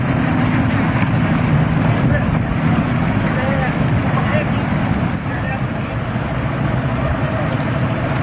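Bass boat outboard engines rumble steadily at the Potomac River ABA fishing tournament launch, a continuous low drone with wind noise, while people talk nearby over the motors.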